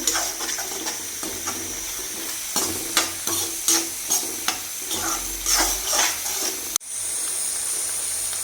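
Chopped green chillies fry in a pan for a beef pickle, with a loud, steady sizzle and a series of sharp spoon scrapes and clanks, then a sudden cut to a smoother hiss.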